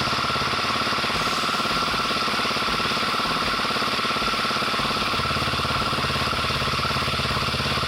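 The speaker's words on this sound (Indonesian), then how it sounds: "pertama kita nyalain dulu mesinnya buat dipanasin" A motorbike engine idles while warming up before an oil change and engine flush, a steady, close, rapid mechanical chugging with a fine knocking rhythm that stays even and unbroken throughout.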